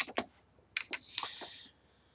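Someone types on a computer keyboard nearby in a short burst of quick, light key clicks, faint and irregular, followed by silence.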